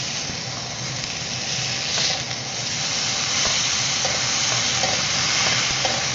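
Plantains frying in a hot pan with oil give a steady, dense sizzle and hiss that runs unbroken throughout, with faint stirring scrapes and no talking.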